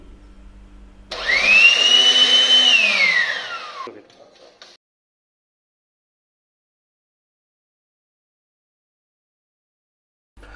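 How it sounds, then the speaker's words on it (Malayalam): A mixer grinder briefly pulsing coconut and other ingredients in a large jar for tapioca puzhukku; a loud motor whine rises and falls in pitch for about three seconds, then stops to silence. "ഇനി ഈ ഇൻഗ്രീഡിയൻസ് എല്ലാം കൂടെ നമ്മൾ വലിയ ജാറിലിട്ടിട്ട് ഒന്ന് ചെറുതായിട്ട് നമുക്ക് അരച്ചെടുക്കാം"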